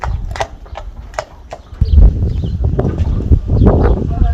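A horse's hooves clip-clop in an uneven rhythm, close and loud, with snorting and shuffling as the steps grow heavier.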